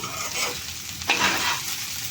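Okra fried in a small amount of oil and stirred slowly in the pan: a steady close sizzle with soft scraping sweeps of the spatula, no voices.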